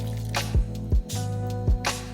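Water poured into cupcake cake mix lands in a bowl with a few soft, wet drips and squishes, quiet and close, with low hum underneath.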